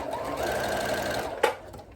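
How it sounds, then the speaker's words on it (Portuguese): A sewing machine runs steadily, stitching the hem of a viscose midi dress, with an even rapid whir and a brief louder clack near the end. "E vou começar a minha costura da minha barra aqui"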